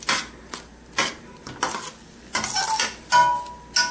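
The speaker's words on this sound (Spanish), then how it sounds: "aquí no vamos a dejar que se haga como tipo tortilla, sino que vamos a revolver de vez en cuando." Spatula scraping and clinking against a pan while dried beef machaca with eggs is stirred, a string of short irregular scrapes and knocks close by with a faint sizzle underneath.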